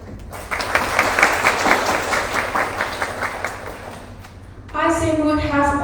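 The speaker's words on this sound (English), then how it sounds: "Please give us a warmest applause." Applause fills a grand final of a Vietnamese student law moot competition, a broad steady wash of clapping that runs for several seconds before a voice begins speaking over the hall near the end.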